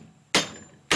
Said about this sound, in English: tap in the center with a hammer